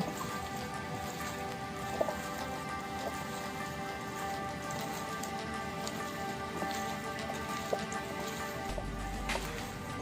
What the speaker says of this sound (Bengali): এখন আমি আলুটা সহ আবার কষলায় নিব।